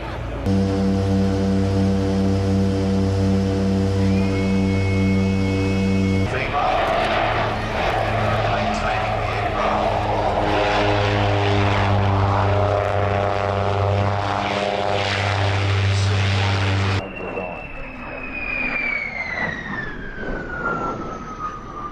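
Propeller aircraft from a two-plane display team fly at an airshow, a loud, droning engine note that shifts in pitch and then sweeps downward as a plane passes.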